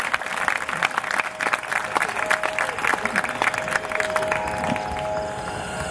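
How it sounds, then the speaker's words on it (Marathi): A crowd at a housing complex's Gudi Padwa celebration claps warmly for a percussion performer, a dense, steady burst of hand claps from a fairly close audience with a faint sustained tone running underneath. "एकदा टाळ्या वाजवूया त्यांच्यासाठी."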